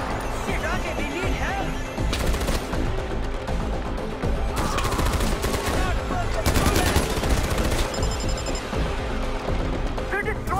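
Far Cry 4 gunfire crackles in loud, repeated bursts, with rapid automatic volleys and single sharp shots clustered in several dense stretches and separated by brief lulls.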